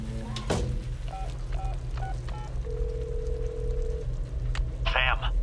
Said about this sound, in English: we see a woman walking up to a phone box, dialing a number